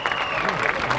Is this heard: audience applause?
yes